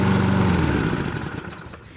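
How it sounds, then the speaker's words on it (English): A lawn mower engine runs in a shade garden, a loud droning rumble with a buzzy hum that gradually fades and softens over two seconds. "So you're going to set the lawnmower on its lowest setting."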